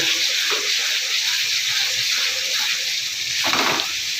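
Chicken kosha masala sizzles and hisses steadily in a kadai as it is stirred, with a loud, continuous frying wash broken by a few brief scraping bursts.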